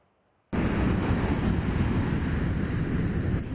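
High-tide sea waves and strong wind on the coast at Fuveme in the Volta region, a sudden loud roar of surf and gusting wind buffeting the microphone after a brief quiet start, continuous and close.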